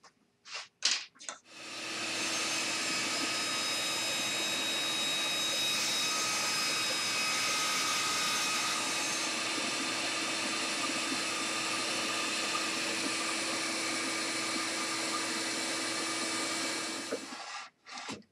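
A power saw cuts lumber boards to size, spinning up after a few short bursts into a long, loud, steady whining roar with a tonal hum, then winding down at the end.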